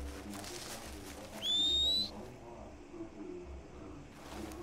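A character's whistle for a horse in the Red Dead Redemption 2 online beta: one loud, bright rising whistle of about half a second, standing out over a soft ambient game background.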